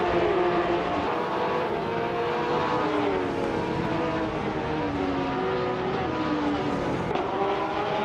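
A 2010 Porsche 911 GT3 Cup and other race cars in a racing video game roar continuously, layered engine notes sliding up and down as they accelerate and shift.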